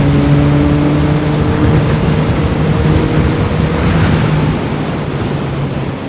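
A CFMOTO 675SR-R sport motorcycle engine drones steadily at moderate revs while riding on twisty roads, a continuous loud hum with wind rush and little variation.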